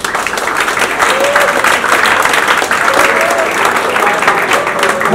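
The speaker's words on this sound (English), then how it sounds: "That got the largest applause this afternoon." Loud, continuous applause from an afternoon audience at Adamson, a broad dense wash of clapping with a faint voice or two surfacing briefly underneath.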